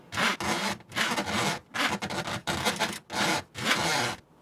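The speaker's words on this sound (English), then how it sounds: "We'll keep feeding it in manually till we get it to a good solid point." A drain snake cable is fed by hand into a kitchen sink drain, making about six close, rough scraping and rasping bursts in an uneven rhythm with short pauses between pushes.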